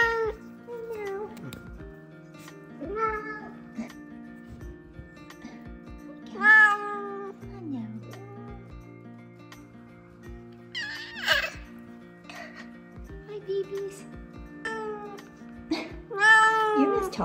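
F2 Savannah cats meow repeatedly, giving several drawn-out, rising and falling meows with quiet gaps between them, heard up close.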